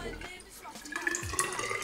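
Water poured into a reservoir of a model aqueduct, a short steady splashing trickle that grows a little louder partway through, close by with faint background noise.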